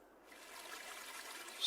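Stream water sound effect previewed in a video editor: a soft, continuous trickle of flowing water fading in after a brief silence, gentle and steady with a slight swell at the end.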